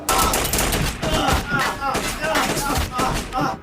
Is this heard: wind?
no